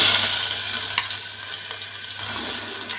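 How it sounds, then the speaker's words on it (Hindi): Onion paste frying in hot oil for a restaurant-style chicken gravy, a steady close sizzle with a brief sharper crackle and faint stirring throughout, no talking. "मेरा तेल गर्म हो चुका है, अब इसमें मैं प्याज का पेस्ट डालूंगी"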